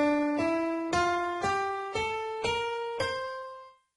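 A C Mixolydian scale rises note by note, with six clear struck tones played one after another, each ringing and fading before the next, alone and without voices.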